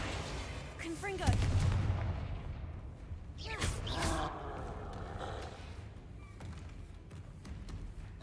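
Confringo spell blasts in Hogwarts Legacy burst out as sharp booming explosions, one near the start and a cluster a little later, each decaying into a rumbling tail amid background game noise.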